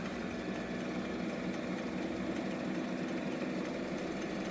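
Homemade pulse motor with a north-south magnet configuration spinning up, a faint steady electrical hum and whir that holds a constant drone throughout, with no voices.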